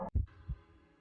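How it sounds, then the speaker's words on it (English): Two deep thudding heartbeats in quick succession, close and dull, followed by a low fading hum. "His heartbeat thudded beneath his palm, strong and real."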